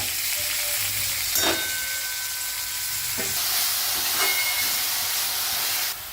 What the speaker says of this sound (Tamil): இங்கே வாழைப்பூவை வதக்கின்னு இருக்கேன்